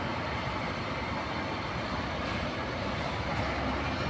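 An approaching truck gives off a continuous broad rumble and roar, loud and steady throughout with no pause or distinct beats.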